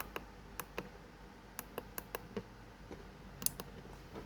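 A password is tapped on a keypad that unlocks a relay-driven solenoid lock: a faint, quiet series of about a dozen sharp clicks at uneven intervals, with no talking.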